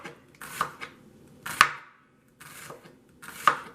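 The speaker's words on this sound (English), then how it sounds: "we're going to just do some red onions, slice them real thin" A knife slicing a red onion thinly on a cutting board: three or four distinct crisp cuts with short pauses between, close and clear, no speech.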